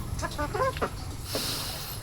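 Elba rooster chickens give a few short soft clucks close by in a brief quiet moment on a farm.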